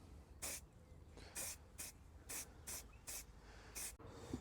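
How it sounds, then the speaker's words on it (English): Short bursts from an aerosol spray can hiss onto the wiper arms of a Porsche Cayenne GTS V8, about seven separate sprays in an uneven rhythm, close and fairly quiet, with no voices. "Give them a little spray."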